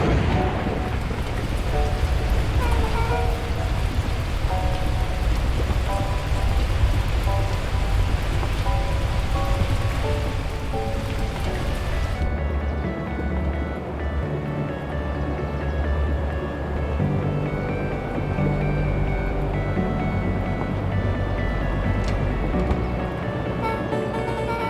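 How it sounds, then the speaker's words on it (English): Torrential rain pours down in the video game Beacon Pines as a loud, unbroken hiss of downpour. A low thunder-like rumble sits beneath it, and the texture shifts partway through without ever letting up. "the heavens opened up, unleashing torrential rain"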